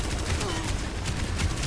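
Steady automatic gunfire in a video game, a loud continuous rattle of shots throughout a short stretch with no pause.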